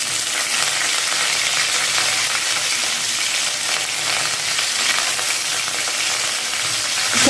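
Curry leaves crackle in hot oil with mustard seeds in a pan, a dense, loud, continuous sizzle with faint stirring, close up and steady throughout, with no voices.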